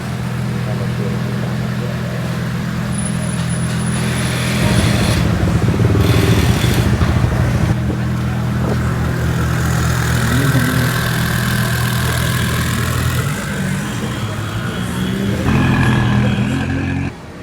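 Classic race cars idle with a deep, steady rumble in the paddock at the Bangsaen Grand Prix 2023 in Thailand, with occasional swelling revs and passing engines close by and faint voices in the background.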